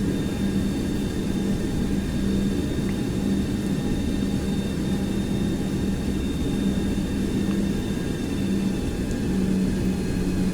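Boeing 727 engines roar at about 97 percent takeoff power in X-Plane 12, a steady, loud jet drone with a constant whine running unbroken throughout, no voices.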